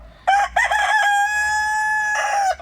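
A single Kara Kurt rooster crows nearby, one loud, drawn-out call lasting about two seconds, clear against a quiet background.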